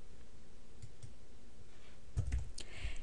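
A few computer mouse clicks while renaming a document, sharp and close, with a short cluster of quick clicks near the end over a quiet background.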